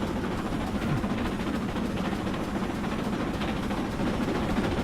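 Loud train rumble in Train Simulator 2017, near the East River tunnels, a steady dense roar with clattering that runs alone and unbroken throughout.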